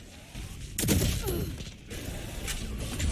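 Gunfire in a competitive Valorant match: sharp bursts of shots and impacts, a loud volley near the start, then scattered cracks and mechanical clicks at moderate level.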